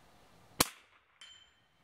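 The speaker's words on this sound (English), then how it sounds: "now you can listen to the difference between that and the standard velocity" A single sharp crack from a Marlin 1894M rifle firing standard velocity .22 ammunition, close and brief, followed moments later by a faint metallic ring.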